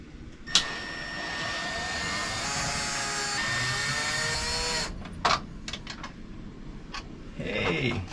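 An electric screwdriver whirs steadily for several seconds, slowing and dropping in pitch, while backing screws out of a Maxxair RV roof fan, followed by light clicks and handling knocks.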